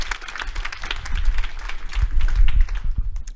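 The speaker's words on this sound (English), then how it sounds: "And now let's give a big round of applause to Millicent." Audience applause in a hall, a short burst of clapping that swells and stays steady at moderate loudness, with no talking over it.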